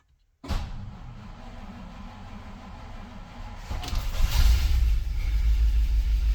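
A classic car with a Ford FE engine cranks and fires after a moment of silence, settling into a steady, rumbling idle that grows deeper and louder after a few seconds.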